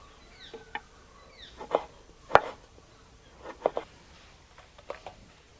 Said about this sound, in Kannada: ನಾವು ಚಿಕ್ಕದಾಗಿ ಟೊಮೆಟೊವನ್ನು ಕಟ್ ಮಾಡಿಕೊಂಡಾಯಿತು